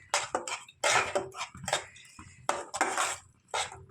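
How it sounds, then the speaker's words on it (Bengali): Kheer with jaggery is stirred in a pan, producing repeated metallic spoon scrapes and clanks against the pan in quick, uneven bursts, close and fairly loud. "চলো এটাকে এখন ভালো করে নেড়ে চেড়ে নেব"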